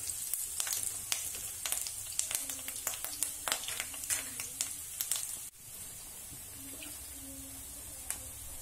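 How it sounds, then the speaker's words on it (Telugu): Garlic and curry leaves fry in hot oil for veg manchurian, a steady close sizzle with quick crackling pops and spatters that soften into a quieter hiss partway through. "వెల్లుల్లి బ్రౌన్ కలర్లో వచ్చేదాకా మనం ఫ్రై చేసుకున్నాక కొంచెం కరివేపాకు"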